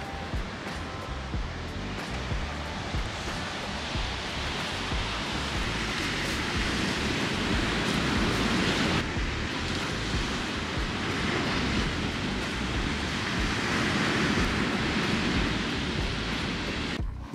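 Sea waves wash onto the shore in a continuous broadband roar, with wind buffeting the microphone throughout and no talk.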